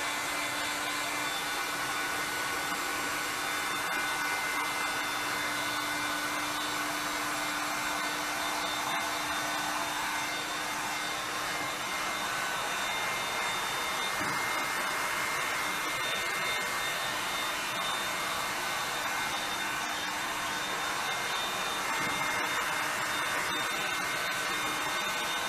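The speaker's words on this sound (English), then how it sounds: "Then what I'm going to do is put my heat gun over it and" A heat gun blows steadily over freshly poured black and white resin on a shovel, a constant broadband whoosh with a faint hum running through the whole stretch, no voices.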